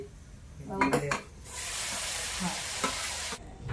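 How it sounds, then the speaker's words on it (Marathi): Vegetable curry cooking in a pan in a home kitchen, heard as a steady sizzle and frying hiss with a few clinks of a spoon or utensil against the pan. "इकडे चाललंय आपल्याला स्वयंपाक, भाजी करणं चालली मस्त पैकी"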